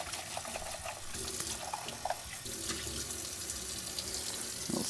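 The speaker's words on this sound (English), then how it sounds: "We're going to give our carafe just a rinse here." Tap water runs steadily into a sink as the carafe of a Gaggia Velasca Prestige espresso machine is rinsed during descaling, a close, continuous splashing stream with small shifts as the carafe moves under the flow.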